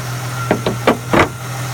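The 3.8-liter V6 of a 2001 Ford Mustang idles with a steady low drone, close up with the hood open, while four sharp knocks or clunks sound over it in quick succession.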